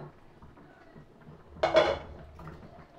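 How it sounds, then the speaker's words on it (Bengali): A pot lid lifts off a simmering pot of chicken stew with potatoes, giving one short metallic clatter and scrape near the middle, close and fairly loud against quiet kitchen background. "এবার ঢাকা তুলে দেখব।"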